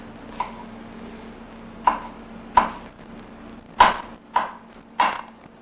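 A kitchen knife chops eggplant on a cutting board with six sharp, separate thunks spaced irregularly. They sound close and clear over a quiet room, with no talking.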